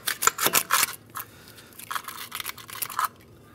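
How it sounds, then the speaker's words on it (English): A brake caliper is worked off the front of a 2015–2019 Hyundai Sonata, giving a burst of close scraping and clicking metal contacts, followed by quieter intermittent scrapes. "slowly work our caliper off"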